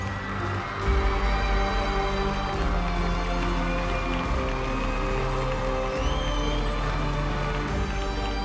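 A stage audience gives loud, sustained applause as Mr. Duraisamy and Mrs. Shanthi Duraisamy are welcomed on stage, a dense wash of clapping and cheering over steady background music.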